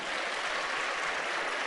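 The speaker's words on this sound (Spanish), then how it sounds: "Bueno, te podéis aplaudir también." An audience at a debate applauds in a brief, steady burst of clapping heard from a distance, fairly faint.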